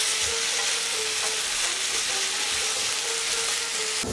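Potato chunks for Bengali aloo posto fry with salt in a pan over low to medium flame, giving a loud, steady, close sizzle with faint stirring scrapes and no talking.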